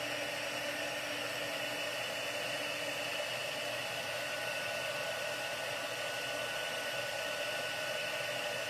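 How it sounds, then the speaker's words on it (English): A heat embossing gun blows hot air in a constant, even hiss and whir, steady and close throughout with no breaks. "You gotta love heat embossing."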